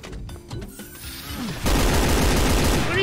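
Shotgun fire in the Doom 2 video game, scattered sharp shots at first, then a loud dense burst of rapid gunfire that continues to the end.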